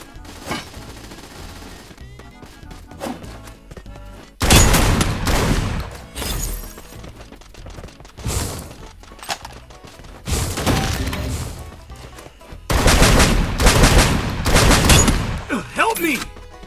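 Gunfire in the mobile shooter game Free Fire: loud, sharp bursts of rapid shots come in several clusters after a quieter opening, with a voice talking between volleys.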